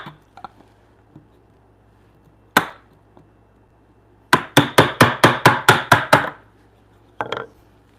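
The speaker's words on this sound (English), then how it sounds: "Probably use a small chisel for this." A small chisel struck against wood while shaping rounded edges for a timber frame bunk bed: a few scattered knocks, then a rapid run of about ten sharp, evenly spaced blows, close and loud, ending with one more hit.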